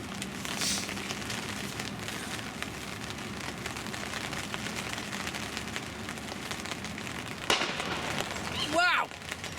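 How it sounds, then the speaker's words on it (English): Light rain at a lake: a steady, fine patter of drops on a surface, close and continuous, with a brief louder rustle and a short burst of movement near the end. "Just a little bit of light rain."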